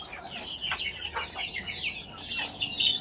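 Chicks and chickens in a small backyard poultry farm in General Santos: a busy, close chorus of high peeping and clucking calls overlapping throughout, no talk.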